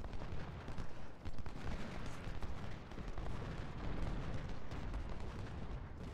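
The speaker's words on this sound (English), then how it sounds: "they're certainly bombarding our position" Continuous artillery bombardment in the Civil War strategy game Ultimate General: Civil War, the battle of Cold Harbor, heard as a steady rolling mass of booms and crackling blasts without pauses.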